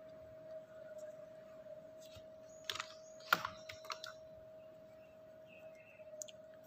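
Mouse clicks on a computer while joining a Microsoft Teams meeting, a short burst of a few sharp clicks near the middle, close and fairly faint over a steady hum, with no talking.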